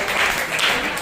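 A church congregation at a Hindi worship service claps loudly and steadily for the whole stretch, a dense continuous applause with a voice faintly mixed in.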